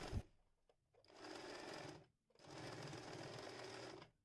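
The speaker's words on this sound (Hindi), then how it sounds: "तो आइए मैं आपको इसे स्टिच करके दिखाती हूँ।" Home sewing machine stitching fabric pieces for a homemade surgical-style face mask, running in two steady motor bursts with a short pause between them, close and moderately loud, no talking.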